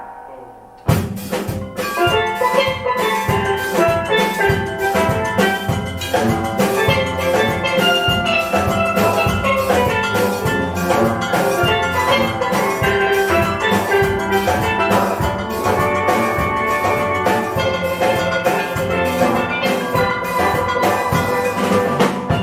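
A steel band plays all its parts together, pans carrying melody and harmony over bass and brake-drum percussion, dense and continuous at steady loudness without talk.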